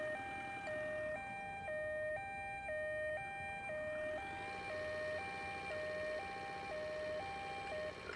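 Ambulance siren from the Ambulance Simulator video game, a steady two-tone wail alternating high and low that shifts into a faster alternating pattern partway through, loud and continuous with no talking.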